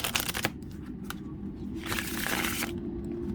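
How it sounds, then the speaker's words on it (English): A slippery deck of tarot cards is shuffled close by, giving two quick bursts of riffling and crisp card flicks, with soft rustling between them. "It is super easy to shuffle."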